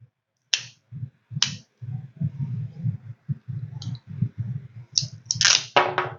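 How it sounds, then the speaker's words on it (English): Ratchet pruning shears click sharply as the mechanism locks in place, several crisp, close clicks spaced about a second apart over a low, soft rustling handling noise. "And then a third click."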